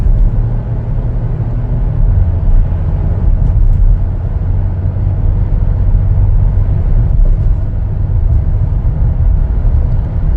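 Steady low road rumble and engine hum inside a 2023 Chevy Traverse LT AWD on a test drive, loud and continuous with no talk.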